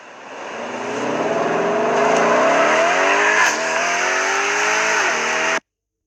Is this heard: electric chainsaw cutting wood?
no